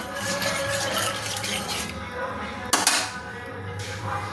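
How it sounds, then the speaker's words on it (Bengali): A spoon swirls salt into water in a metal pot for boiling eggs, a soft rattling stir with one sharper clink against the side partway through. "দিয়ে চামচে একটু গুলিয়ে নিলাম"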